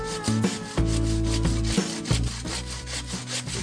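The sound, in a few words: hand saw cutting coconut husk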